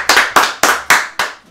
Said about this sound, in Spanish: Un aplauso para Carmen Gómez.